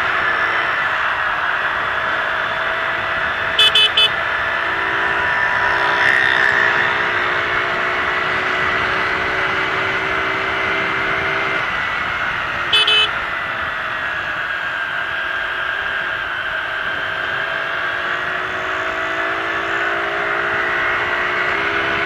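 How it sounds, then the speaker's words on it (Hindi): A TVS Scooty Pep+ scooter at full throttle hums with a steady, high engine whine and rushing wind noise. It holds a constant pitch throughout, with a couple of faint clicks and no talk. "चलो फिर से एक बार फुल थ्रोटल मैंने दबा दिया है"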